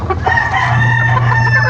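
A Boston gamecock rooster crows loudly and close by in one sustained, strained call, with steady low background hum beneath it.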